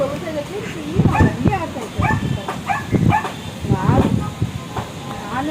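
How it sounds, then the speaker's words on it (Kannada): A native Indian street dog barks and yips in short, uneven bursts at close range, mixed with people talking nearby. "ನಾಟಿ ನಾಯಿ ನಾಟಿ ಚುಟ್ಟಿ ನಾಯಿ"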